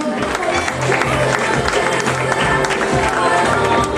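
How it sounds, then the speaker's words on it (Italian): Crowd clapping steadily throughout at a carnival in Montesano Scalo, Italy, mixed with chatter and voices in a lively room. "un applauso"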